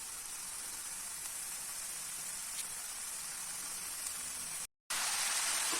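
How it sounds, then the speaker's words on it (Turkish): Steady, hissing sizzle of spinach and garlic frying over medium heat in a hot pan, continuous and close, with a brief dropout near the end before the sizzling resumes. "Kontrollü bir şekilde orta ateşte hafif kavuralım."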